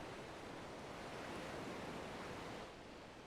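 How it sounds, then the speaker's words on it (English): Ocean waves crash in a steady, broad wash of surf from Final Fantasy XIV, sounding near the sea off the port of Kugane, continuous and loud with no voices, easing slightly at the very end. "the crash of the waves as we drew closer to Kugane"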